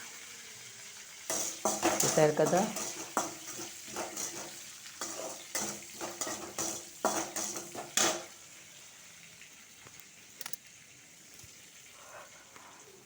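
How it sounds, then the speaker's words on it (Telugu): Mustard seeds, cumin, curry leaves, dried chilies and asafoetida sputter in a hot tempering pan for a Telugu mango chutney, with crackling bursts and stirring clatter for several seconds before fading to a quiet tail with brief speech. "ఇప్పుడు పోపు వేచుతున్నాను. ఆవాలు, జీలకర్ర, కరివేపాకు, ఎండుమిరపకాయలు, ఇంగువ"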